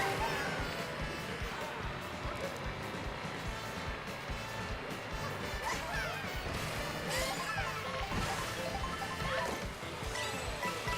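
Several green shells from the Mario Kart video game strike in quick succession, a dense clatter of crashes and impacts over busy game music and effects.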